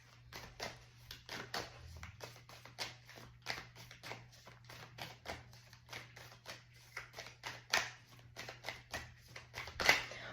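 Rapid, soft riffling and tapping of tarot cards being shuffled, a continuous flurry of small flicks and snaps at close range, with no talking.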